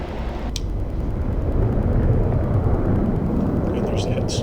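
Mk82 bombs striking a target in the DCS F-16 combat flight game, a sustained loud low rumble of the impacts with a few sharp crackling bursts, close and heavy throughout.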